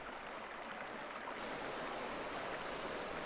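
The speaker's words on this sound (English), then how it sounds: "The river continues to flow towards the Sicilian coast, cutting increasingly deep into the basalt." A river flowing over basalt on the slopes of Etna toward the Sicilian coast gives a steady, close rush of water that brightens and grows slightly fuller partway through, with no voices.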